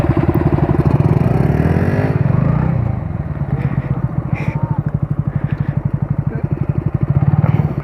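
Loud motorcycle engine idling close up with a throaty, pulsing exhaust thump, rising briefly then settling into a steady rapid beat.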